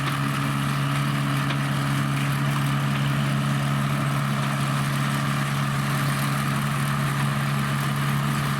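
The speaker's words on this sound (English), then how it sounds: "Next up are some beautiful vintage balers, pulled by equally beautiful vintage tractors." A vintage tractor engine pulling a vintage hay baler chugs steadily with a low, constant hum, close by and unbroken throughout.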